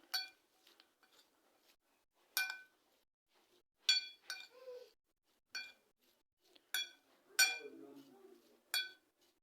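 Salad ingredients, seasoned with black pepper, are mixed in a bowl with a utensil, making intermittent bright clinks and scrapes at an uneven pace, close and fairly quiet.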